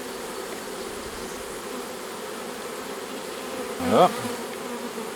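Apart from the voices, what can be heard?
swarm of bees being put into a hive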